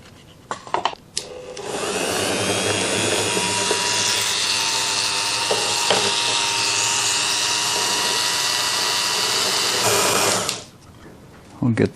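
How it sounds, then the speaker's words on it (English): A high-pitched Dremel rotary tool whines steadily for about nine seconds drilling holes in a model aircraft kit, starting after a few brief knocks and cutting off near the end, close and loud. "we've now got our Dremel ready to go"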